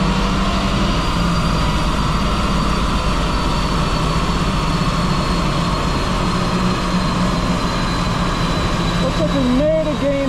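A 2021 Subaru Outback XT turbo engine pulls at full throttle on a dyno, a loud, steady drone that fills the whole stretch, with a brief rising whine near the end.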